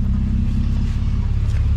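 Deep, steady engine rumble from a VW Gol idling through a full stainless steel exhaust, loud and close with a constant low drone and no voices.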